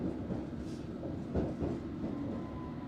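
A London Underground train in the tube at Liverpool Street station rumbles steadily and loudly nearby, a dense continuous roar with faint rhythmic clatter and no voices.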